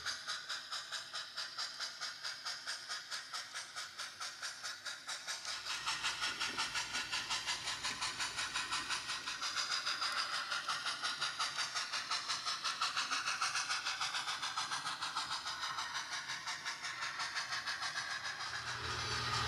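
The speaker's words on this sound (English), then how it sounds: "The train of loads now is arriving in Cooperstown at milepost 19" HO scale DCC model train running on a 1923 Sierra Railway layout, a loaded freight with leased locomotives, gives a steady rhythmic rumble and clicking of wheels on track that builds slightly as it nears, with no voices.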